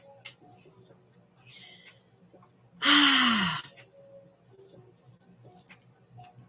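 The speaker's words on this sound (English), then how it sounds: "Second yawn." A person gives a single long yawn that ends in a drawn-out, falling voiced groan, heard close and clearly against a quiet room with faint background sounds.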